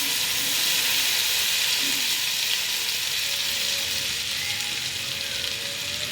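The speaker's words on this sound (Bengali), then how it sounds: "এবার তেল আমের মধ্যে কিছুটা ঢেলে দেবো।" Oil sizzles and hisses as it is poured over cut mango for a sour Bengali pickle, a dense continuous crackle that stays loud and even throughout with no talk.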